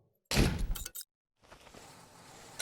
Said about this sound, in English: We'll put a door in there as well.